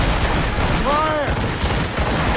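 Ship cannons firing a fusillade in Assassin's Creed Rogue, loud booming blasts rolling under busy battle noise, with a brief tonal whistle midway and voices mixed in.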